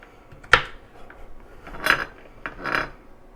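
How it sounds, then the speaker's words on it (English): A knife dices a carrot into little squares on a cutting board, with three separate sharp chops spaced out between quiet pauses. "I'm just going to chop it into little squares. I guess we'll call that dicing the carrot"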